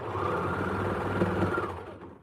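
A sewing machine stitching a sleeve seam, a steady close whirring run of rapid stitches lasting about two seconds before slowing and fading out.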